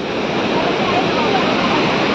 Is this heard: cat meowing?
no